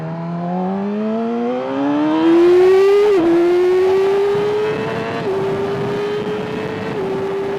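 A 2019 Yamaha R6 motorcycle accelerates hard at less than half throttle, its high-pitched engine note climbing steadily through the revs with brief dips at gear changes, loud and close throughout.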